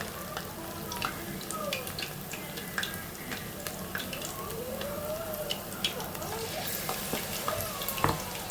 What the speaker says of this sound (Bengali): এরকমভাবে ভেজে নেব